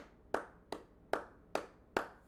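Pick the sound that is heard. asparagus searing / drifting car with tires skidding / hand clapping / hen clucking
hand clapping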